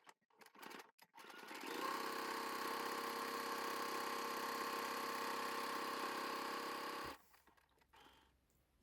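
A sewing machine zigzag-stitches the edges of calico fabric together in one continuous, loud, even mechanical whirr lasting several seconds. Quiet handling sounds come just before it and again after it stops.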